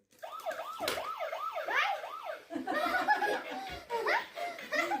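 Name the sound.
toy police car siren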